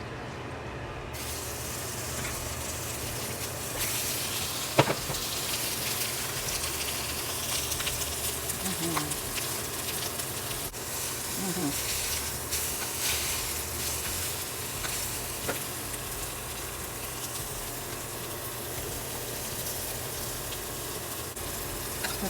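Salisbury steak patties fry in oil, a continuous dense sizzle and hiss with occasional sharp pops and spatters, steady and moderately quiet from start to finish.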